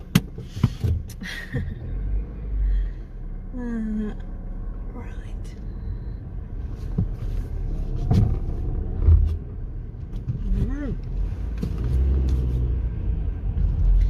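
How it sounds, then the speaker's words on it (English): Car engine cranking and catching near the start, then idling as a low steady rumble for the rest, with a person talking over it and scattered interior clicks and thumps. "So let's start the car."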